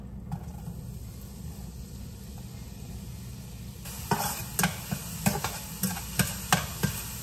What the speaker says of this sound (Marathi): आता आपलं तेल गरम झालेलं आहे. सो आता आपण हा जरासा बारीक चिरलेला कांदा टाकूया त्याच्यामध्ये